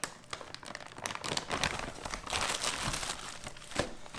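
Tough plastic packaging of an Estonian 24-hour military ration is wrestled and torn open, with close, loud bursts of crinkling and crackling plastic continuing throughout.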